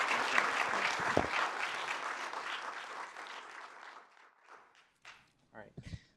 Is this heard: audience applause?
yes